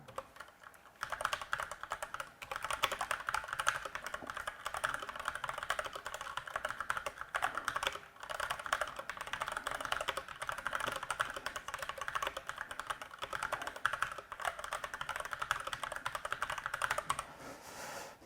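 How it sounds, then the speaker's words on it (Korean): Steady, continuous typing on a computer keyboard, a dense stream of quick key clicks running throughout with only a brief pause. "학생 여러분들은 위에 써져 있는 내용을 먼저 밑에 타이핑해 주시기 바라겠습니다."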